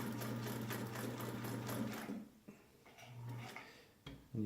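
A Singer 99 sewing machine runs slowly with a steady mechanical whir and rhythmic needle ticking for about two seconds, then stops and starts in short bursts, close and clear.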